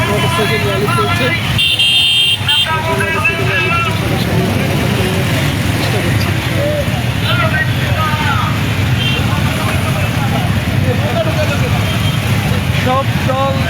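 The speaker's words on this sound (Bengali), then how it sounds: "গাজীপুর ১ আসনে শামীম মরসুমের মোটরসাইকেল র্যালি চলছে" A motorcycle rally for the Gazipur-1 seat rolls past on a street, with a constant drone of engines and traffic and repeated horn toots. People talk loudly over the din.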